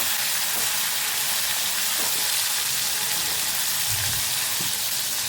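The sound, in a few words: tomatoes frying lightly in a pan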